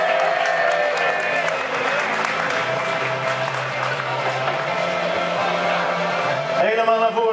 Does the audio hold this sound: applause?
yes